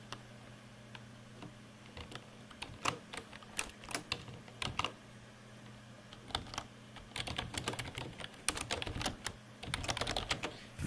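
Fingers tap quickly on a computer keyboard in bursts of irregular keystrokes, close and fairly quiet, separated by short pauses over a faint steady hum.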